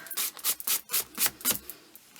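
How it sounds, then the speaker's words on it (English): An eraser rubs out a pencil line on paper in about seven quick, close strokes of even rhythm, each a short scratchy swipe, heard alone. "Rub my line out."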